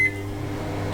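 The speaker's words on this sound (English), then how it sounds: "That's how you turn on the microwave when you don't mean to." A kitchen microwave oven switched on by accident gives a short beep at the start, then its steady hum runs on alone with no talk.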